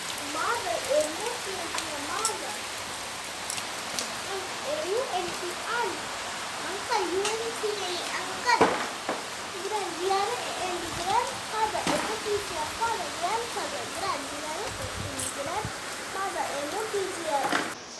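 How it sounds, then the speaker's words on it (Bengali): Heavy rain falls steadily outside a home during an all-day downpour, a dense continuous hiss with scattered louder drips and splashes, while someone talks over it. "আর বৃষ্টি তো আজকে সারাদিন মনে হয় না যে ছাড়াবে।"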